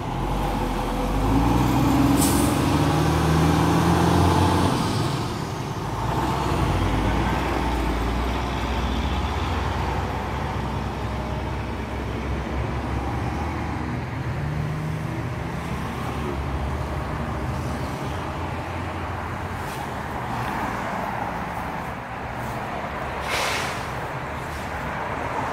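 A truck with an Alberta plate stands blocking a road, its engine rumbling steadily and loudly up close, with a couple of sharp hissing bursts that sound like air brakes.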